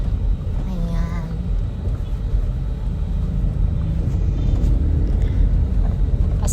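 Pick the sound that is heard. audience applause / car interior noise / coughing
car interior noise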